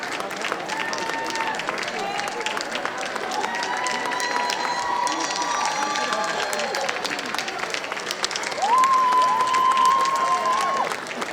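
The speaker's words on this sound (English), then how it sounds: "One more round of applause for today's graduates," Graduation crowd at a middle-high school ceremony applauding and cheering, dense clapping with shouts and whoops, and a loud sustained whistle or horn-like tone near the end.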